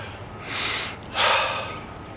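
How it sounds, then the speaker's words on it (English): Two long, deep sniffs drawn in through the nose at close range, the second one stronger than the first. "I'm going to stand in one place and just smell it for a while"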